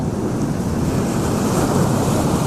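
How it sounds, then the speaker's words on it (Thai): Strong wind roars across a seaside bridge at Khlong Ta Kok in Bang Bo, Samut Prakan, Thailand, buffeting the microphone in a continuous loud rumble with no pauses. "ตอนนี้ลมพัดแรงมาก"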